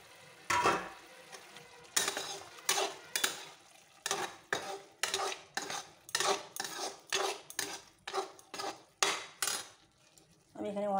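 Fried potatoes are stirred into Kashmiri chilli spices in a pan for a potato curry, with a spoon scraping in a steady rhythm of about a dozen loud strokes over a faint sizzle.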